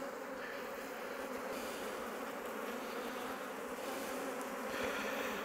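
Honeybees swarm and buzz at a full, defensive hive, a dense, steady drone that holds close and loud throughout with no talking.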